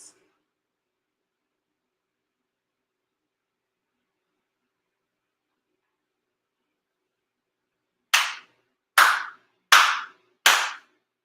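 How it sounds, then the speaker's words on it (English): Four sharp, evenly spaced claps at a monthly memorial ceremony, loud and close after a long stretch of silence. "Chido Haide for sincere claps"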